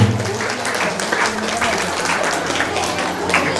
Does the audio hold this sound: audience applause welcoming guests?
yes